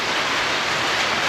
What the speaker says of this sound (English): when I'm here in the shop and you can hear the rain, I think you can hear the rain